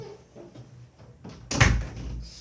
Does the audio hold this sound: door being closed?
yes